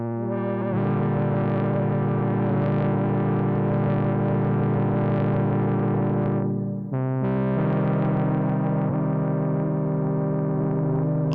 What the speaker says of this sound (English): Oh, that reverb's lovely